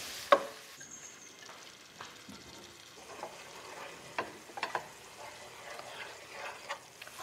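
Turmeric, garlic and ginger frying in a pan, a soft steady sizzle with occasional stirring scrapes and clicks, close and fairly quiet throughout.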